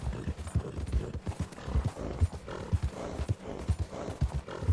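Horse hooves clip-clop in a steady walking rhythm in the Red Dead Redemption 2 video game, close and distinct, with the horse on a cold-weather trail and faint game ambience beneath.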